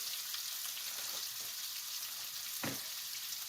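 Whole masoor lentil masala with asafoetida sautés in a pan, giving a faint, even sizzle with a few soft stirring scrapes and one sharper clack near the end.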